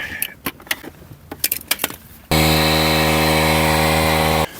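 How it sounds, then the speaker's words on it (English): Battery-powered air compressor inflating an ebike tire: after some clicks and handling noises, a loud, steady buzzing motor drone starts abruptly and runs for about two seconds before cutting off, close-up. "I got my compressor set to 33."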